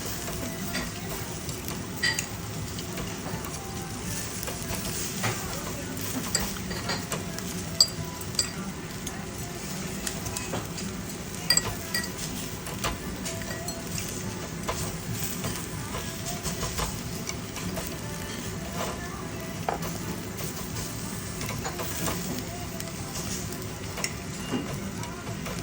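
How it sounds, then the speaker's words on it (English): Meat grilling at a Korean barbecue restaurant, a steady low sizzle with occasional clinks of tongs and utensils, continuous and moderately faint across the whole stretch. "The waitress grills the meat really well."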